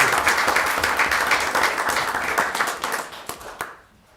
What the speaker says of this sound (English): Let's give a round of applause to all our principals.